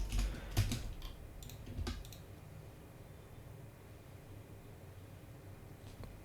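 Quick keyboard clicks on a computer keyboard during the first two seconds, close and fairly soft, followed by quiet room hiss with no voices.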